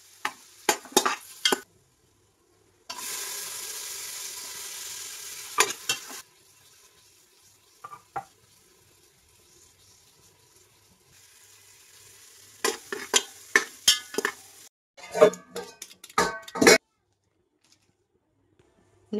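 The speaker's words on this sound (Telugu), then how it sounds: "వేసేసుకుని మనం బాగా ఫ్రై చేసుకోవాలి." Chopped onions, ginger and garlic sizzle in a hot pan for a few seconds, then a spoon stirs and scrapes repeatedly, with clattering bursts of stirring and quiet gaps between.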